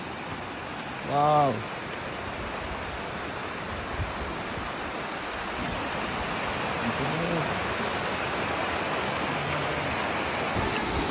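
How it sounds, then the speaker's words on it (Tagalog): River current on a mountain hike to Ryde Falls near Oxford, New Zealand, a steady broadband rush of flowing water throughout, with a brief exclaimed voice early and faint talk. "Narinig na namin tong agos ng yan oh, river oh."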